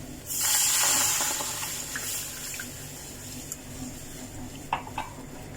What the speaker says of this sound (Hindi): अब मैदे को इसमें अच्छे से मिक्स कर देना है।